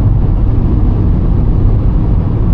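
Inside a moving 2024 Mahindra XUV 3X0, a loud, steady low wind and road roar fills the cabin without letup.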